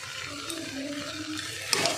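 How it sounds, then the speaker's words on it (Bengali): Winter vegetables for spring rolls stirred in a frying pan with a spoonful of cornflour, a soft, steady scraping and gentle sizzle with no talking, a brief sharper clatter near the end. "আমি 1 চামচ এই যে কর্নফ্লাওয়ার দিয়ে এটা নাড়িয়ে নেব"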